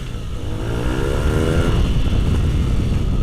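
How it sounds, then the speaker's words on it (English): A 2017 BMW R nine T Racer on its stock Euro 4 exhaust revs up, the engine note rising in pitch with a rough, popping edge, loud and close with no talk. "This is the stock exhaust pipe, and it sounds amazing."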